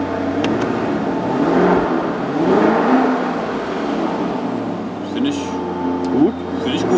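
A sports SUV engine set to sport mode hums and revs at a steady moderate level, with people talking over it from inside the cabin.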